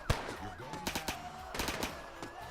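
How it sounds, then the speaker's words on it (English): Police open fire inside the video game GTA while chasing the player, heard as bursts of automatic gunfire and single shots. The shots are faint and distant, mixed with muffled game sounds. "they keep following the player and firing now and then"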